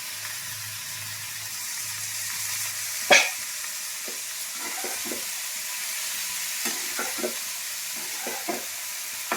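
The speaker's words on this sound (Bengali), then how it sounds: "সব কিছু দিয়ে আমি একটু শুকনো শুকনো করে এগুলো ভেজে নেব।" Mixed vegetables, including radish and cabbage, fry fairly dry in a pan, giving a soft, even sizzle broken by a sharp clack near the start and scattered scraping knocks from stirring, close by with no talk.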